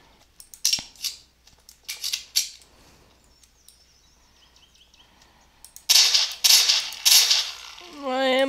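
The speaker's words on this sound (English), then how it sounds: "Darn you, zombie, shoot you in the head." Gunfire in a zombie shooter video game: a quick run of sharp, loud shots, a quieter stretch, then a dense, heavy volley near the end with no talk over it.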